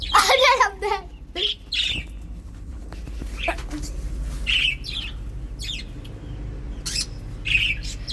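Pet budgies chirp and squawk indoors with short bright calls scattered through the scene, some near and some farther off, over a low steady background hum and faint rustling.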